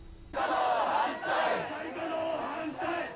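A large protest crowd outside the Japanese Prime Minister's residence in Tokyo chants loudly in unison against a nuclear plant restart, with sustained rising and falling massed voices.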